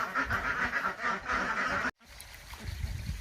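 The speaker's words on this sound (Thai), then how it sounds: "พ่อปล่อยเป็ดออกจากคอกแล้วนะครับ พากันดีใจครับ" Ducks let out of their pen quack in a noisy, overlapping chorus, nearby and steady, before a brief dropout leaves softer scattered quacks and rustling.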